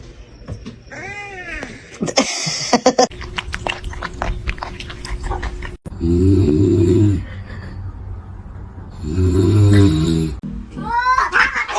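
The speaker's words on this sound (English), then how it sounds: "this cat's a little stupid" A cat vocalizes close by with drawn-out, wavering meows and caterwauls, then gives harsher, noisier cries in bursts between quieter stretches of scuffling.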